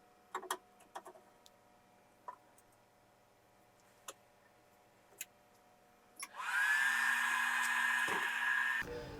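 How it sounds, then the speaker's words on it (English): A BGA rework machine heats an ECM processor chip from a Saab 9-3 2.0L, opening with a few faint clicks and ticks before a steady, loud blowing hum with a high whine starts and runs to the end. "The rework machine heats the processor chip from the top and the ECM from the bottom at the same time"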